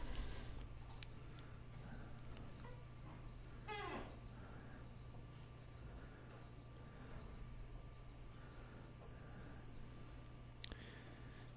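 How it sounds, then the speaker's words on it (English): A Satel Integra alarm panel counts down its exit delay with a steady run of short, evenly spaced beeps, close and clear, shifting into a longer continuous tone near the end. "The zone is blinking and it says time to exit during the time that the alarm sets itself up."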